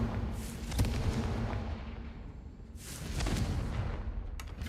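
Confringo blasting spell from Hogwarts Legacy bursting in a loud, booming explosion, followed by a second blast a couple of seconds later, with a rumbling tail and no talk.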